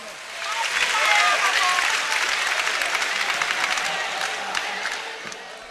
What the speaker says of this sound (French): On applaudit pour les membres du jury